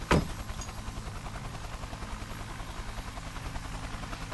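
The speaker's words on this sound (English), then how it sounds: "Good helicopter. Ah, don't fly into my chest." Helicopter rotor noise from a strategy video game tutorial: a continuous broadband whir with a sharp burst at the start, steady and fairly loud throughout, without voices.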